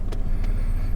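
A truck engine with a freshly replaced spark plug turns over and settles into a steady, close running idle, with a couple of brief clicks over the low rumble.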